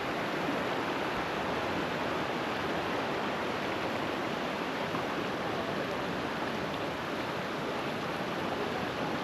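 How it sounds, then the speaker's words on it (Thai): Water pouring steadily at the base of the Huai Chan waterfall, a broad continuous rushing roar that stays even and unbroken throughout, close and fairly loud with no voices. "ก็จะเป็น ฐานน้ำตกนะครับไหลยาวไปเลยนะครับ"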